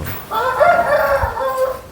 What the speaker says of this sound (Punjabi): ਕੁੱਕੜ ਵੀ ਦਿੰਦਾ ਪਾਂਗਾ